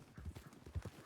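Horse hooves clip-clopping during a ride in a video game, a few quick soft thuds in an uneven gait, faint and brief.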